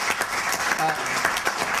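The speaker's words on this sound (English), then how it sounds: "big round of applause for Suad Al-Faturi" Applause in a hall after a talk on Saudi Arabia at the House of Lords, a moderate, even patter of many hands, somewhat distant and fairly soft, with voices faintly beneath.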